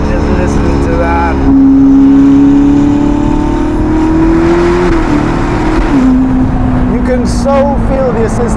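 A Ferrari SF90 Spider hybrid with a Novitec exhaust accelerates hard, its engine note loud and close as it climbs steadily in pitch, dips briefly at a shift, then climbs again. A voice speaks over the engine.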